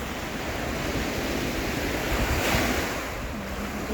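Ocean waves roll and break at Stanley Beach, Hong Kong, in a continuous loud wash of surf, with wind buffeting the microphone and no voices.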